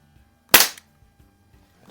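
A single sharp shot from a vintage 1960s .177 Crosman pump air gun, either a 147 or an early 760, rings out close and loud, followed by a faint click.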